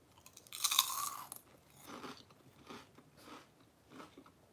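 A crunchy curly snack is bitten and chewed close to the microphone: one loud crackling bite, then a run of softer rhythmic crunching chews, with no talking.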